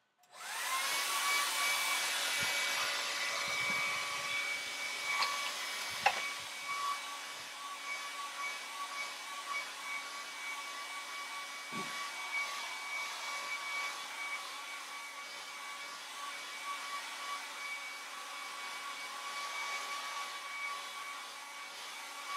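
A hair dryer blows steadily on a watercolour painting of Eilean Donan Castle, a continuous close whirring hiss that runs for the whole stretch with no talk, only a brief click partway through.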